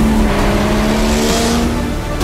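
A Porsche 911-based Moby Dick race car drives close by with a loud, steady engine drone and a sustained tone that sits high in the mix.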